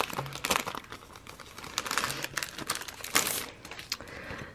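Plastic packaging around paper planner inserts, monthly and weekly pages, is pulled open with close, continuous crinkling and crackling, punctuated by sharper tearing bursts, with no voices.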